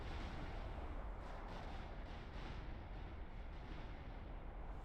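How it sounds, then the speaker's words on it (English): Naval battleships trading fire in the strategy game Supreme Commander 2, a dense, continuous rumble of distant cannon volleys and booms layered into a steady roar with no clear gaps. "Does seem like another engagement from Purple's and Alpha's navy, just exchanging shots here and there."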